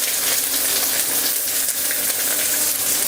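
Chopped onions, garlic and curry leaves fry in hot oil for hotel-style sambar, giving off a steady, close sizzle with no talking.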